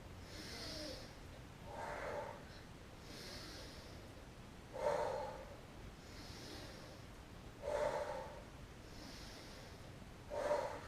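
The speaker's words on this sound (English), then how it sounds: "Big breath in, exhale" A person takes deep breaths in and out during a floor workout, with several slow inhale-exhale cycles repeating every few seconds, close and fairly soft, with no talking.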